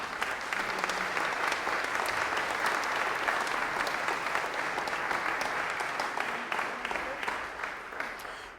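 Steady, sustained audience applause welcoming LUDWIG musicians at a music festival talk, a dense even clatter of many hands that holds throughout and tapers slightly at the end, with no talk over it.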